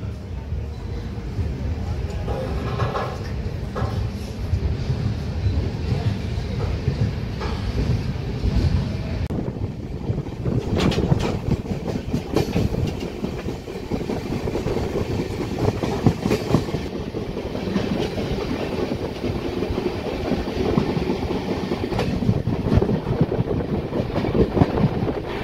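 Kagaznagar superfast express train pulling out of the station and running, with a continuous rumble, wind buffeting and clickety-clack of wheels throughout, heard from on board with some talk.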